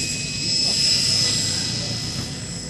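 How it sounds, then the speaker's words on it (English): X-Cell Fury Ion electric RC helicopter, a 3D-capable model, flying nearby with a steady high-pitched rotor and motor whine that swells slightly and then eases, with a broad airy rush underneath. "This helicopter is fully 3D capable"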